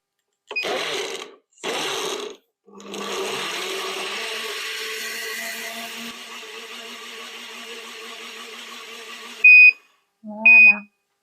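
A Moulinex Perfectmix blender runs its smoothie program: two short whirring bursts, then a steady, even motor whir lasting several seconds, followed by two bright electronic beeps once it stops.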